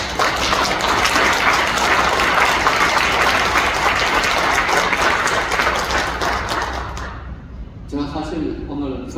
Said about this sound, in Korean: 박수 해주시면 감사하겠습니다